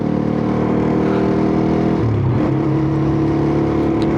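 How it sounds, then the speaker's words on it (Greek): A Malaguti Spectre 125 GP motorcycle engine held at high revs close by, droning steadily, then dipping and climbing again against the rev limiter with a buzzing, stuttering edge. "Έχουμε πάρει το ok να βαρέσουμε έναν κόφτη στο μηχανάκι."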